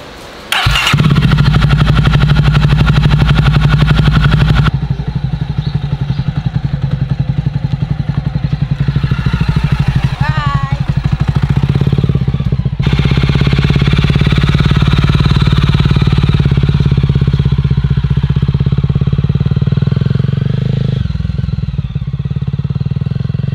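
A Jawa Classic motorcycle engine catches and settles into a loud, steady idle with a clattering, throbbing beat that carries on alone for over twenty seconds.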